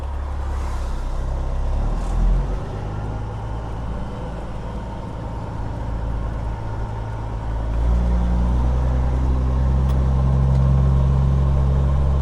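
A semi truck's engine idles at a truck stop with a deep, steady rumble that stays constant and fairly loud throughout, swelling a little toward the end.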